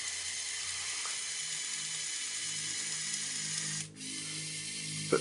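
A motorized Lego Technic arm raises its shoulder joint, producing a steady, faint mechanical whir of small motors and plastic gears with a slight click near the end.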